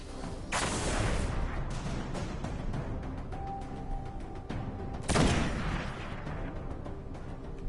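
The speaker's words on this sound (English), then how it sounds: "Shooting at me again" Two heavy blasts of gunfire from the Destiny video game hit about four seconds apart, each a loud close burst over a constant rumbling game backdrop.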